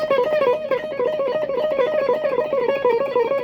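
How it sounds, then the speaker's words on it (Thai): A distorted electric guitar through a Korg A4 effects unit plays a steady, rhythmic riff of repeated notes, thick and buzzy, continuous for several seconds with no voices. "นี่คือเสียงแตกไม่ต้องพูดถึงคือมันเล่นง่ายมาก"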